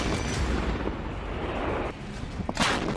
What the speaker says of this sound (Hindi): जब भारतीय सेना का तोपखाना गरजता है तो युद्ध में कोई और आवाज सुनाई नहीं देती है।